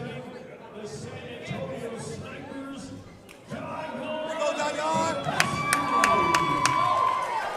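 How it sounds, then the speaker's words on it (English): A crowd in an indoor arena at a San Antonio combat sports league event, a steady murmur and scattered cheering that swells in the second half, with a few sharp claps and whistles near the end, under commentary-style talk. "And that crowd continues to pile in here at the Shrine Auditorium in San Antonio, Texas"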